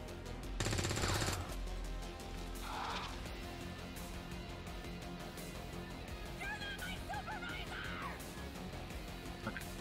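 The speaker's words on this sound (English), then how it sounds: "Shooting starts over here." Gunfire in the video game XCOM 2: a loud burst of automatic shots near the start, then scattered game effects and creature calls over a steady ambient background.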